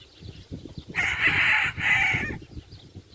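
Chickens on a small farm in Saudi Arabia, with a loud rooster crow in two drawn-out bursts rising over a low, busy murmur of clucking hens nearby.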